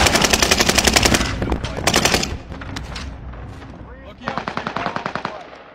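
Gunfire in Call of Duty: Warzone, loud automatic bursts of rapid shots in several strings separated by short pauses, close and dominant, with faint voices.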